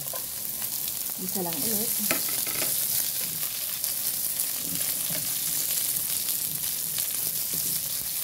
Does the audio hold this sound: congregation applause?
no